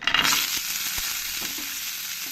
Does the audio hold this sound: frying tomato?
yes